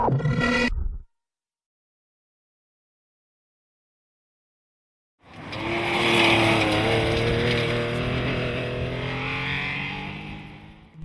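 A historic rally car on the Ulster Rally: a short burst of engine at the start, several seconds of silence, then a loud close engine note rising and holding with shifting revs as it passes, no talking.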